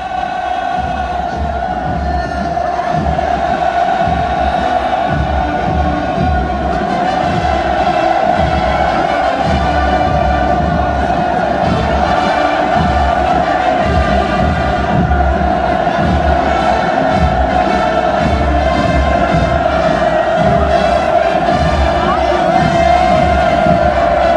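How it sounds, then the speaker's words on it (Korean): A huge crowd cheers and shouts hurrahs across a parade square during the 2018 North Korean military parade. The roar is loud and unbroken, with massed voices rising and swelling steadily for over twenty seconds. "동창 만세의 환호성이 경축광장 상공에 끝없이 미아리쳐 갑니다"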